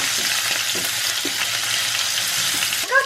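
Oil sizzles and crackles steadily in a pan as turmeric goes in for a prawn curry, a loud, close, continuous frying hiss with a brief clatter of stirring near the end.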